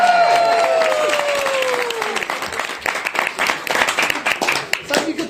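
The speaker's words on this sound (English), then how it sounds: "Loud and thunderous applause" A crowd at Tamaki Maori Village in Rotorua, New Zealand, bursts into loud applause after a rising vocal call and builds into dense, sustained clapping with some cheering voices mixed in.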